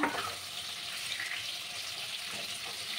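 Pointed gourd (potol) frying in oil gives a soft, continuous sizzle and faint crackle, heard quietly and evenly for a few seconds with no talk.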